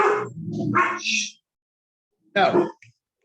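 Close dog barks and yips come in a rough cluster, then fall silent before one more short burst of barking.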